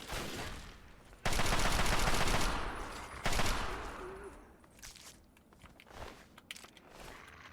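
Gunfire from a .32 caliber weapon in Fallout 3: dense bursts of rapid shots in two loud stretches, then scattered softer pops and clicks trailing off.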